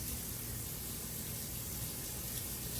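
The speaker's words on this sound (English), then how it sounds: "I'm just rinsing it down the sink as I scrape." Running water from a kitchen sink tap rinsing fish scales away while a fish is scraped, a steady, even rush of flowing water, close and continuous with no talk.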